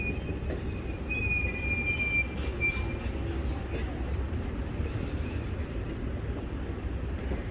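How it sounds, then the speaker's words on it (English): An Amtrak train sits at DeLand station in Florida, its wheels squealing in a long, high, thin tone over a steady low rumble that fades after a few seconds. "they can actually pull the train up further past the station"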